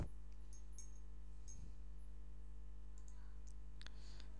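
A few faint computer mouse clicks sound while the smart dimension tool is used in CAD software, small and sparse over a steady background hum.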